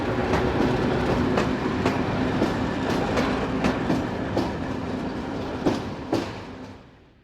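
Railway locomotives shunting at a station, with rhythmic clickety-clack of wheels over rail joints, a steady rolling rumble and a faint tonal hum, fading away at the end with no talk.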